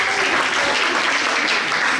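Steady audience applause fills the room, a dense continuous wash of many hands clapping at even loudness with no pauses, welcoming a performer onstage.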